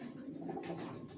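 Racer pigeons in a breeding loft produce a low, continuous cooing murmur, close and steady, with no voices present.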